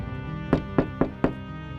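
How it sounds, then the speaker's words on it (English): Four sharp knocks on a door, evenly spaced about a quarter second apart, close and distinct over a steady low musical drone, with no voices. "A knocking wakes me early."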